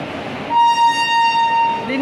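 A train pulling into Porbandar station, its terminus, sounds a single steady horn blast lasting over a second above a low rolling rumble, loud and fairly close.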